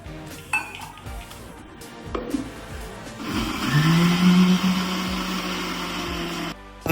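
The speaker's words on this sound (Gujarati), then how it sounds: "થોડું પાણી નાખીને આપણે ગ્રાઇન્ડ કરી લેવાનું છે આને." A mixer grinder whirs as it grinds leftover khichdi with water, fenugreek powder and salt into dosa batter, rising from clattering jar handling into a loud, steady motor drone before stopping abruptly.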